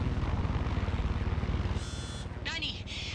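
Rotor thumping of a helicopter flying in Far Cry 6 rolls on steadily up close, then softens slightly as brief electronic game sounds and a voice cut in near the end.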